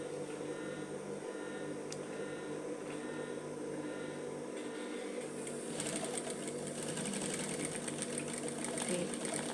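Sewing machine stitching through an elastic skirt waistband, a steady mechanical whir that quickens and grows louder in the second half, with faint background noise throughout.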